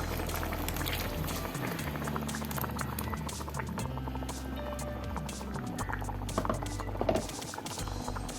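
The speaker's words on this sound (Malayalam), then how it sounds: "നമ്മുടെ കറി ഇവിടെ നല്ലവണ്ണം തിളച്ച് വന്നിട്ടുണ്ട്" Fish head curry in coconut gravy boils steadily in a pot, with a continuous dense bubbling and popping that runs the whole time at a close, even level, with no voices.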